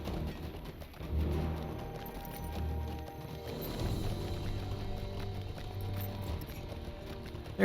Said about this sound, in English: Let me get on my regular horse.